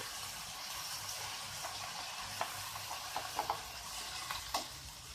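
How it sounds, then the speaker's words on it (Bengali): Banana flower and fried potato being stirred together in a pan give a quiet low sizzle with several brief scraping and clinking spoon strokes. "আলুটা দিয়ে আবার ভালোভাবে নেড়ে চেড়ে মিশিয়ে দিব"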